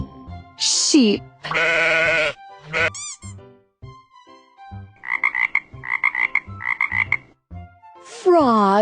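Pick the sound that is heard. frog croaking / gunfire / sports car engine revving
frog croaking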